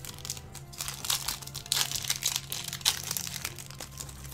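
Crisp, continuous crinkling of a brittle, aged Yu-Gi-Oh! booster pack wrapper being handled and torn at, irregular bursts of crackle close to the ear with no voices.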